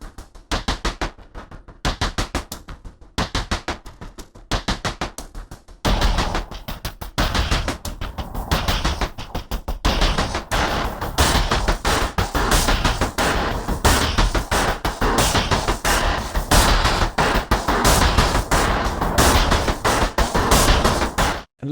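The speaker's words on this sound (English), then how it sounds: "I'm going to lay down a beat with the pulses, and then I'm going to add some boom kit and 2 layers of epic bends" 8Dio Hybrid Tools tempo-synced pulses drive a dense, loud electronic beat, first choppy rhythmic stabs, then thickening into a heavy continuous pounding layered with boom kit drums.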